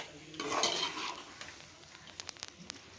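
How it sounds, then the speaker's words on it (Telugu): A country chicken curry with curry leaves and coriander is stirred in a pan, bringing a brief burst of scraping and sizzling, followed by scattered light clinks of a utensil against the pot, with no talk. "కరివేపాకు కొత్తిమీర రెండు వేసి మళ్ళీ మిక్స్ చేస్తున్నారు"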